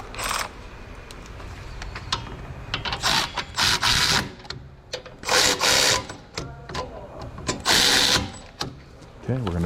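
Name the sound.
ratchet winding in wheel bearing bolts on Cadillac SRX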